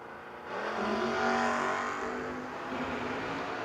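Drag race cars at a no-box 660 shootout, one of them a 4th gen Camaro, roaring past as the engine note swells loudly then eases into a sustained drone, with no voices.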